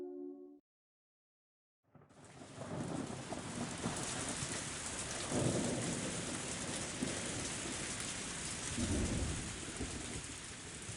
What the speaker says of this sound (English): Just then, there was thunder in the distance and with a heavy rain started pouring down.